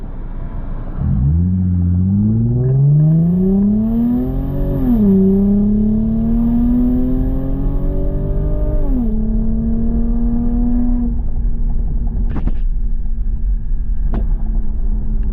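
A loud Lexus engine revs up in rising, droning pulls, climbing in pitch twice before settling into a steady idle, with a couple of sharp clicks afterward.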